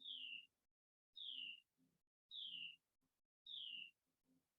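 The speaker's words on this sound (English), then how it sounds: "I hear a beautiful bird outside." A songbird calls outdoors in four clear, evenly spaced phrases, each a bright descending whistle followed by brief softer notes, heard faintly at a distance during a quiet restorative yoga session.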